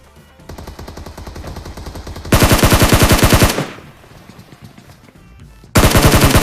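PUBG Mobile gunfire: bursts of rapid automatic shots, with a soft stretch of shots at first, then a loud close burst, a quieter pause, and another loud burst near the end, with no talking.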